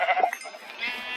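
Sheep bleating in a video game, a short burst of bleats up front that fades into quieter game ambience over about a second.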